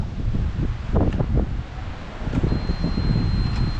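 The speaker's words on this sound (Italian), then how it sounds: "Peccato per il tempo, perché è un po' grigio e c'è tanto vento." Strong wind buffets the microphone in low, rumbling gusts that rise and fall throughout, with no voices, in a pine forest under grey skies.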